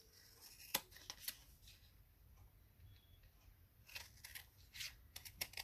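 Scissors trim fabric and ribbon washi tape in several quiet, close snips. A few crisp clicks are spread over the first second and the last two seconds, with a soft rustle between them.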